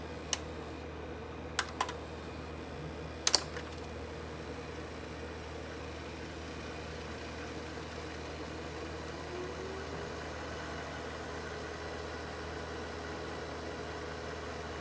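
A Panasonic PV-945H Omnivision VHS VCR from 1999/2000 rewinds a tape with a low, steady mechanical hum and faint whir, accompanied by a few sharp clicks early on, then a long, even running drone with no talking.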